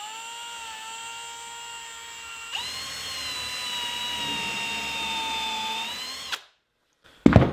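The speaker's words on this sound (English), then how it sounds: "the real trick here is starting the drill bit and then changing the angle" Power drill driving a countersink bit into wood, a steady high whine that jumps in pitch and loudness partway through, then stops abruptly before a short final burst.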